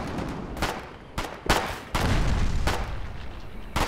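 During Foxhole wartime gameplay, a grenade explosion lands among a string of sharp gunfire cracks. A heavier booming burst stands out midway, and the blasts sound loud and close.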